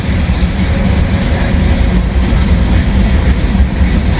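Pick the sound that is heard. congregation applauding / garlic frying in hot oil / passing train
passing train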